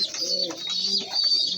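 Pigeons feeding close by give soft, repeated throaty coos over a faint steady background hiss, several overlapping calls through the short stretch.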